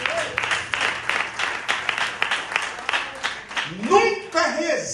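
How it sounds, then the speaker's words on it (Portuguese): Congregation applauding during a family church service, a dense, steady patter of claps running under the preacher's voice, with speech and a brief rising vocal phrase near the end. "Pode aplaudir a terra."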